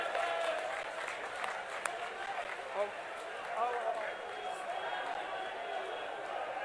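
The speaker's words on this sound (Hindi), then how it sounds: "जोरदार तालियों से स्वागत किया जाए" Applause from a crowd greeting Congress party politicians at a political rally in India, a steady wash of clapping with occasional louder bursts and voices mixed in throughout.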